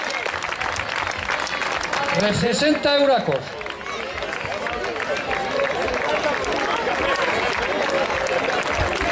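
A crowd applauds the winner of a cross-country race, the Cross de Grases, clapping steadily and close while an announcer talks over it through a loudspeaker for the whole stretch.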